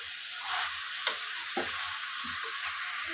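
Drumstick flowers and vegetables sauté in a pan with a steady close sizzle, punctuated by a few soft scrapes and knocks of a spatula as the mixture is stirred.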